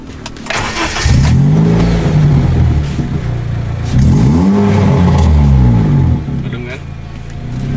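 The 1.2-litre manual engine of a 2018 Honda Brio Satya revs twice from inside the cabin, each rev rising and falling in a smooth, rounded drone. People talk over the engine.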